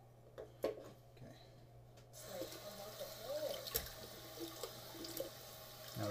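Cold water runs from a tap into a sink during a straight-razor shave, a steady close splashing stream that starts about two seconds in, with a voice talking over it.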